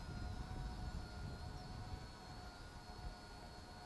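An Eachine E520s camera drone flies and climbs, giving a steady, continuous motor whine with a few high tonal lines over broadband rotor noise. It stays fairly constant and moderately loud throughout, with no talk.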